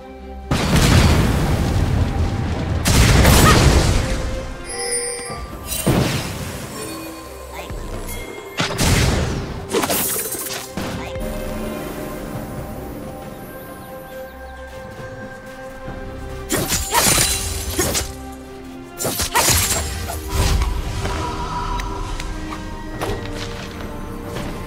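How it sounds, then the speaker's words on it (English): Booming explosions and crashing blasts from a League of Legends ranked match, with Akali against Corki in mid lane, loud and repeated through the whole stretch, several heavy bursts spaced a few seconds apart over steady game noise. "Blue team's turret has been destroyed"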